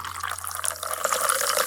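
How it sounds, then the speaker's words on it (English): Tonic water poured into a glass, a continuous bubbly splashing and fizzing stream that grows slightly fuller as the glass fills, close up and without any voices. "Then, pour 3 ounces of tonic,"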